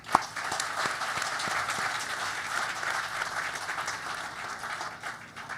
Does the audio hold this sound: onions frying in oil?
no